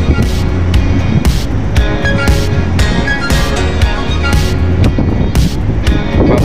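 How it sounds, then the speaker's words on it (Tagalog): Strong wind roars and buffets continuously, loud and close, with rhythmic gusting surges throughout. "Papalad ng hangin oh."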